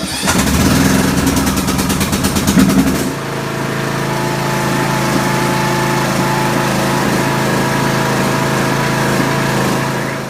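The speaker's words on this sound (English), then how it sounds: "So that shows you how easy it is for the John Deere to start." A John Deere D105 riding lawn mower cold-starts with a loud rapid cranking burst, catches, then settles into a steady, even idle that runs close and alone for several seconds.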